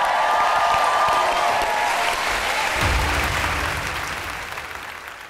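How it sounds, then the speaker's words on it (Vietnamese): A studio audience on a Vietnamese TV singing show breaks into loud, sustained applause that fills the room and slowly fades toward the end. "Một tràng vỗ tay dành cho Lina, cô gái của chúng ta."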